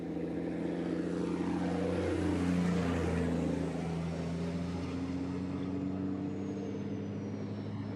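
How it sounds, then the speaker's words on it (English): A steady, loud racing truck engine drone with a slowly rising pitch as the revs build, holding continuously throughout with no pauses, at a qualifying session at Jarama. "And now you can hear the revs build up as Norbert Kish heads down the start-finish"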